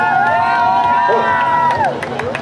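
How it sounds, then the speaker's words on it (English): Spectators at a triathlon and duathlon swim race cheer and whoop in a loud outdoor crowd, with voices shouting over steady crowd noise throughout. "Got your own cheering crowd there."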